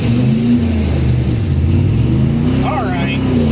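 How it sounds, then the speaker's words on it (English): A Chevy car climbs a mountain road near Rauchtown and Ravensburg State Park, its engine giving a loud, steady, low droning roar that holds close and continuous throughout. "The Chevy might go. It roars up the mountain"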